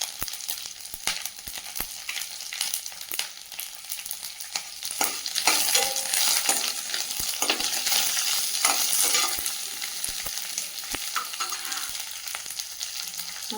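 Curry leaves, slit green chillies and two dried red chillies sauté in hot oil for lemon rice, a steady close sizzle with repeated spatula stirring and scraping, no talking.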